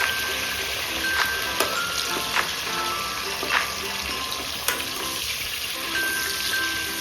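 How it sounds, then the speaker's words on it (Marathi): Sliced onion and green chillies sautéing in hot oil in a pan, a steady soft sizzle with scattered crackles and stirring clinks throughout, close and moderately quiet, no talking. "आता हे छान असं थोडंसं परतून घ्यायचं तेलामध्ये"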